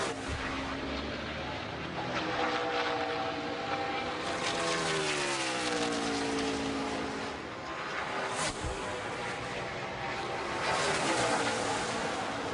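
A race car engine roars steadily during 2015 Lilly Diabetes 250 qualifying, its pitch sweeping as the driver briefly eases off the throttle before accelerating again, with crowd or commentary noise faintly underneath.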